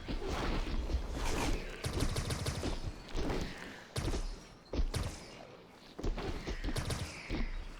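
Rapid video game gunfire bringing down a Vexus, bursts of automatic shots and thumps repeating in clusters over a busy, dense background, fairly close and continuous.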